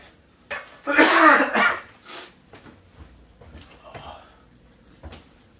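A harsh burst of coughing followed by a few softer throat sounds and breaths, close and fairly loud.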